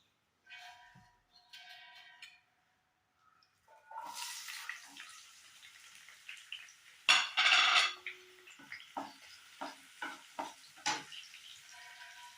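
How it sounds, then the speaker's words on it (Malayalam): Sliced onions drop into hot coconut oil and crackle into a sizzle, with scattered clinks and stirring knocks from the pan as they fry, close and moderately loud. "വെളിച്ചെണ്ണയിൽ ഉള്ളി മുറിച്ചിടാം"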